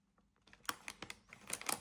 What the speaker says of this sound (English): Get the scissors.